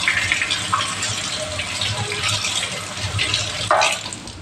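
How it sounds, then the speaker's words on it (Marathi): A half-cut onion is rinsed under a running kitchen tap, with a steady broadband rush of water throughout and a few brighter splashes as it hits the onion and sink. "आता थोडा हा अर्धवट काढलेला कांदा मी धुवून घेते."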